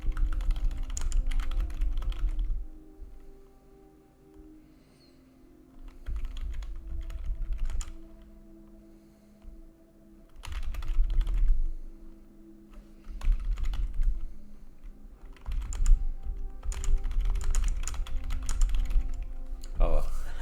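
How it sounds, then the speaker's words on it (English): Computer keyboard typing in the video game Madness of Dr. Dekker: bursts of rapid, close key clicks separated by pauses, over a low steady hum, with a voice speaking in between. "Oh, the keyboard."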